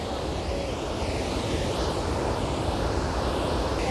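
Athirapally waterfall in Kerala, a powerful, continuous roar of falling water, dense and broadband, with no talking and a steady level throughout.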